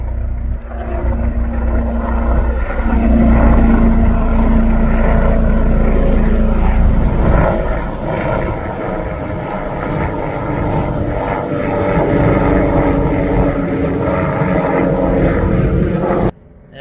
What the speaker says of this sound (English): Here comes a helicopter.